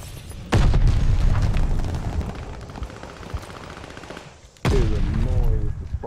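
Gunfire and booming explosions in the video game Call of Duty Vanguard, loud dense sustained fire that fades, then a second heavy blast bursts in, with a player's voice faintly under the noise.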